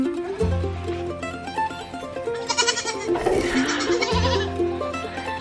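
Goats bleat repeatedly at close range around a newly arrived breeding buck, the herd's new sire. The calls are loud and wavering and overlap one another, with no talking.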